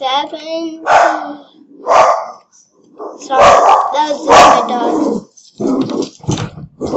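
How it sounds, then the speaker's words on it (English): A pet dog barks several times close by in a home, loud sharp barks and yips alternating with a person talking. "just my dog. This is my dog."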